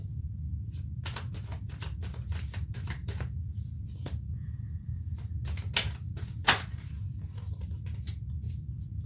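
Oracle cards being shuffled by hand during a reading, a run of soft, quick papery riffles and flicks with a few sharper snaps, close and fairly quiet over a steady low hum, with no talk.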